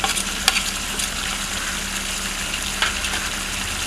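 Chicken meat sizzles steadily in a pan with nutmeg and mace for Old Dhaka-style tehari, cooked without turmeric. The close, continuous frying hiss is broken by a few sharp stirring clicks.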